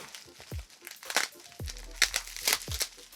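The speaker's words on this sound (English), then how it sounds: "the sound of crinkly, bubbly wrap" Bubble wrap packaging around a Pokemon trading card is pulled open, producing close, bursty crinkling and rustling in uneven clusters, with a voice murmuring faintly now and then.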